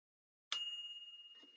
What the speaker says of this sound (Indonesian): Ini adalah suara saat oven gelombang mikro selesai memasak.